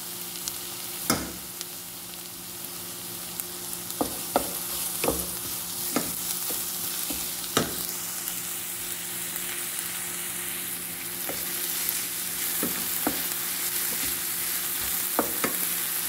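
Garlic and onion fry in a pan under a constant, even sizzle, with scattered sharp clicks and taps of a utensil against the pan and no voices.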